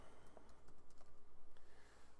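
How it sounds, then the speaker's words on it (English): Rapid typing on a computer keyboard, a steady stream of close, light key clicks with no voices. "I'm going to go ahead and start typing."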